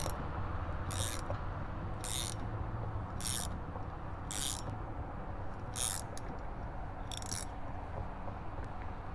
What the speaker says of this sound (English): This is why I like the ratcheting feature, just because I can go back and forth